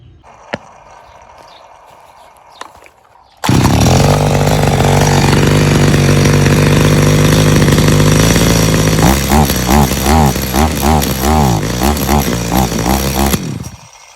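A STIHL MS 250 two-stroke chainsaw roars loudly close by after a quiet start, holding a steady high rev before breaking into rough, pulsing surges, then cutting off abruptly.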